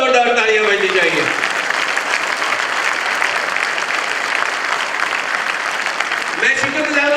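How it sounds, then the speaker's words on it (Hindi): A school audience at Vikas Bharati School in Delhi bursts into loud, sustained applause, a dense roar of clapping that runs for several seconds, with a speaker's voice at the start and again as it fades. "जिसके लिए आप तालियां बजा रहे हैं, हमारे बच्चे, उनके लिए और जोरदार तालियां बजनी चाहिए।"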